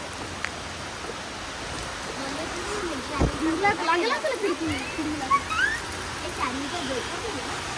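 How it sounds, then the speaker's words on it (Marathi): A steady hiss of heavy rain pouring down, with a person talking and exclaiming over it partway through. "किती जोरात आला पाऊस अचानक"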